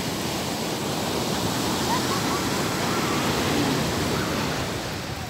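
Strong surf pounds Liwliwa beach in San Felipe, Zambales, a loud, steady roar of crashing waves with no pause, close and filling the whole span.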